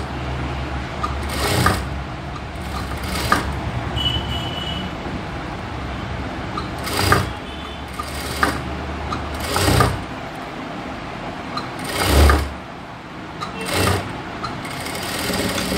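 A sewing machine stitches blouse cloth in several separate runs, loud and close, with short mechanical bursts between them.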